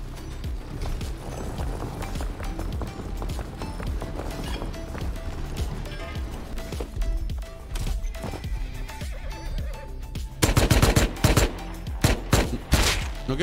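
A horse neighs and hooves clip-clop amid sound effects from the video game Rust, with bursts of gunfire growing louder toward the end.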